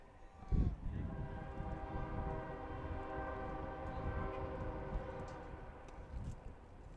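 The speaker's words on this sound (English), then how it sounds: "Feel like I'm in Folkestone with these train horns." A passing train sounds its horn beside a junior varsity baseball field in Georgia, a steady sustained multi-tone blast held for several seconds with rumbling rail noise underneath, fairly close and loud, preceded by a brief thump.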